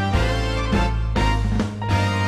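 A Lowrey Legend home organ plays its intro 2 auto-accompaniment pattern: loud, full sustained chords over a steady bass, shifting in rhythmic blocks with light percussive accents between them.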